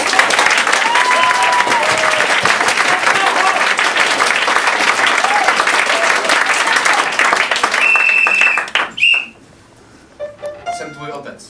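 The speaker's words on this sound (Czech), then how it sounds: "Prosím, potlesk" A theatre audience at an improv comedy show applauds loudly, with dense continuous clapping for about eight seconds before it cuts off abruptly, a brief electronic beep, then a few scattered sounds.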